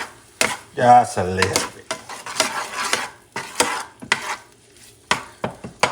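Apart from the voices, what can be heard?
stirring tomato paste into corned beef in a pot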